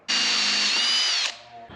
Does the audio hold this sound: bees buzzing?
no